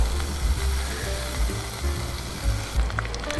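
Solid beef fat sizzles and crackles steadily as it slowly heats in batches in a pot on a primus stove, with a continuous close frying hiss and small bubbling pops throughout.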